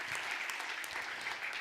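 A church congregation bursts into loud, sustained applause, dense clapping filling the room evenly throughout.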